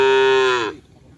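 A single cow moos loudly and close by at a cattle gathering, one long drawn-out low call that fades off, with faint background noise after.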